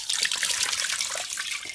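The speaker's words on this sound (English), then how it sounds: "go ahead and fill water just to the top of the meat here" Water is poured into a pressure cooker over corned beef, making a steady bright splashing stream that runs evenly throughout, close and continuous.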